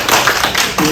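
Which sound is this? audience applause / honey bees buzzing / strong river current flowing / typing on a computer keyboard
audience applause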